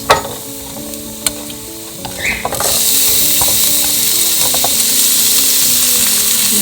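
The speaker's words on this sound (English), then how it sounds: "So just saute until the onions have turned soft and translucent" Minced garlic and chopped onion sautéing in a pan: a few clinks and a soft stir, then a loud, steady sizzle that erupts as the onion hits the hot oil and keeps hissing up close.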